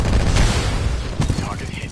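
Gunfire in the Titanfall campaign, a dense burst of heavy shots and booming impacts packed together with a loud low rumble, with some voice activity mixed in.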